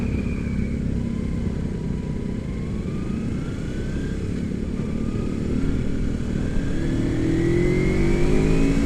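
A Yamaha RX King two-stroke motorcycle revs on a road while touring, a steady droning engine with pitch slowly climbing as it accelerates, loud and continuous amid wind and traffic noise.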